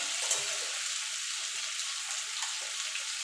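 Pumpkin and potato sizzling in a frying pan while being stirred, a soft steady hiss with faint scraping, quiet and close, no talk.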